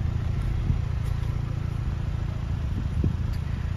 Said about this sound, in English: You get this lovely JCW sports exhaust.